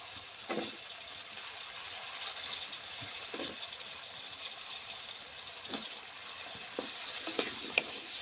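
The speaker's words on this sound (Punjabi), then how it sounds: "5 ਮਿੰਟ ਵਾਸਤੇ ਆਪਾਂ ਆਲੂ ਇਸੇ ਤਰ੍ਹਾਂ ਹੀ ਮਸਾਲੇ ਦੇ ਵਿੱਚ ਭੁੰਨ ਕੇ" Potatoes frying in spice masala for aloo palak make a soft, steady sizzle, broken now and then by quiet stirring scrapes and small pops.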